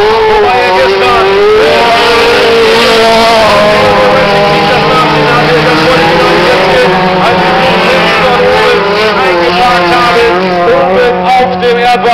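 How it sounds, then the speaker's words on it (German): Stock car engines roar continuously and loudly at the Basepohl track, revving with rising and falling pitch as the cars race close by, with a faint voice in the background. "Sven Doberstein ist vorne, das Fahrzeug läuft wieder"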